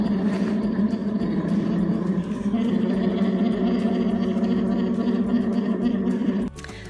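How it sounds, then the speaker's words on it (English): Bear cubs nursing in their den make a continuous buzzing, purring hum with a raspy, vibrating texture that carries on steadily before cutting off abruptly near the end, with a faint rustle after. "That's the sound of feeding bear cubs in their den."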